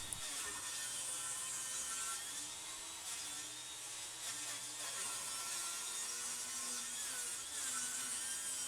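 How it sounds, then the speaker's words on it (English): White oak board being cut lengthwise into grab rail blanks about eight and a half feet long, a steady, continuous saw whine and rasp held throughout at moderate loudness, with no talking. "I'm going to saw it into actually 3 parts"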